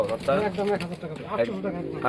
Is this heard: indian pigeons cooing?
yes